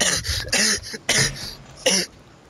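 A coughing fit, three harsh, close coughs in quick succession, each loud and brief, separated by short gaps.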